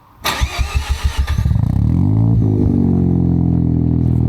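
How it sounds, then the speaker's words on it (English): A rotary-engined car with 93,000 miles on its engine cranks over in a quick rhythmic series of starter turns, then catches and settles into a steady, loud, close idle as it warms up. "After the appropriate warm-up time for the rotary engine."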